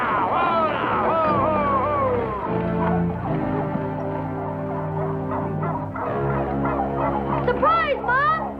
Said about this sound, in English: Come on, birds, get out of here.